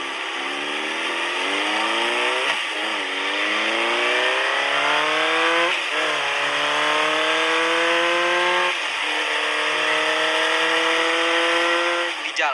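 Motorcycle pulling away from a petrol station and accelerating, its engine note rising through repeated gear changes, loud and close throughout with no talk.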